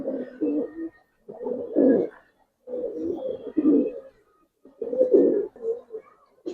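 Giribaz pigeons coo close by in repeated throaty phrases, about four bursts of rolling coos with short quiet gaps between them.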